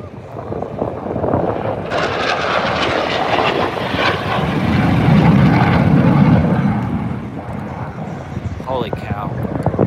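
An F-16 Viper demonstration jet roars past at an air show, a loud, broad engine rush that builds to a peak at mid-clip and then fades, with spectators cheering and talking nearby.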